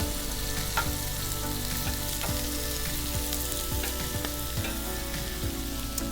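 Brussels sprouts sizzle and crackle loudly in a hot pan on an induction cooktop, a dense continuous fry with scattered pops and stirring clatter close up.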